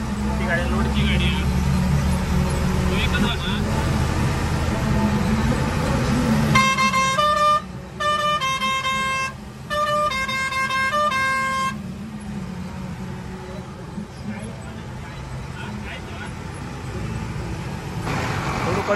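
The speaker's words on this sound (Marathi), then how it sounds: "मोठी गाडी बारकी गाडी म्हणजे लगेच पास होतं सगळं बघूच लागतं. मोठी गाडी लोडची गाडी" A big loaded truck passes on a congested village road. Several sharp horn blasts sound mid-clip over a steady rumble of engines and traffic, with voices talking nearby.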